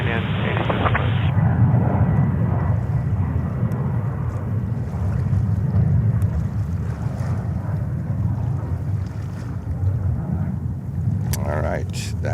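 Alaska Airlines Boeing 737 MAX 9 jet taking off at JFK Airport, New York, a steady, loud broadband engine roar with wind buffeting that holds throughout without fading.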